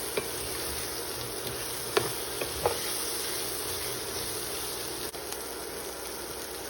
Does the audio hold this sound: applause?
no